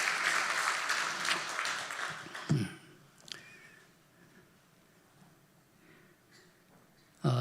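A church congregation applauds its choir with a dense burst of clapping that lasts a couple of seconds, then thins to scattered claps and a quiet room.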